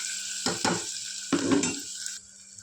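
Chopped onions and coconut fry in oil in a pan, giving a steady close sizzle broken by a few louder scraping stirs that fade to a quieter hiss near the end.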